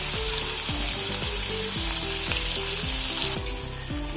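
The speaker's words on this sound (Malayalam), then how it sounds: "രണ്ട് ടേബിൾ സ്പൂൺ വെളിച്ചെണ്ണ ഒഴിച്ചു കൊടുത്ത് നമ്മൾ കഴുകി വെച്ച ഉണക്കമുള്ളൻ പൊരിച്ചെടുക്കണം മീനെല്ലാം എണ്ണയിലിട്ട് കൊടുക്കാം" Dried mullan fish sizzles steadily in hot coconut oil in a pan, a loud continuous fry with faint repeating stirring scrapes, no voices.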